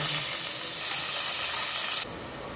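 Onions sizzling in hot oil with cumin seeds, carom seeds and a pinch of asafoetida, a loud steady hiss that drops suddenly to a quieter sizzle near the end.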